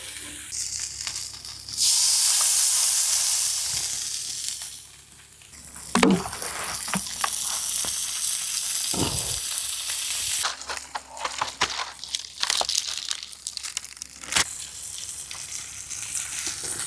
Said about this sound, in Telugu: మనకి ఎప్పుడు ఫిష్ ఎప్పుడు ఒక పక్క బాగా ఫ్రై అవ్వాలి ఇంకొక పక్క ఏంటంటే ఫిఫ్టీ పర్సెంట్ ఫ్రై అవ్వాలి